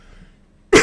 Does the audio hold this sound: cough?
yes